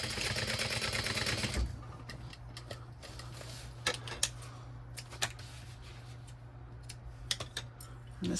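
A sewing machine runs briefly at the start, stitching backpack fabric at an eighth-inch seam, a loud rapid whirr that stops after about a second and a half, followed by scattered soft clicks and handling sounds under a low hum.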